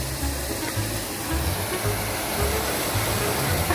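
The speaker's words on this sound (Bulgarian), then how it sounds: "Сега внимаваш да не се ударим във водопада." Constant rushing roar of falling water, broadband and steady, close and loud with no voices.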